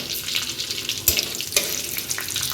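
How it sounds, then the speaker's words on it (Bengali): Bay leaf, dried chilli and panch phoron fry in hot oil for a vegetarian bean-seed dish, giving a steady close sizzle with a couple of sharper pops and spatters. "তেজপাতাটা আর শুকনো লঙ্কাটা একটু ভাজা হয়ে গেলে ফোড়নে আমি পাঁচফোড়ন দেবো"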